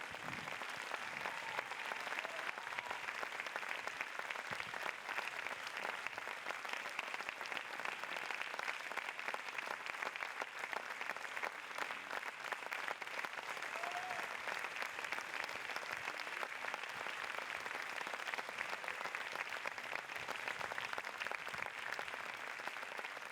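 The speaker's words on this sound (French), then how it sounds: "Vous pouvez les applaudir pour cette 5e saison." An audience applauds at the opening night of a music and visual performance festival, a steady, dense wash of many hands clapping that stays even throughout, heard from some distance.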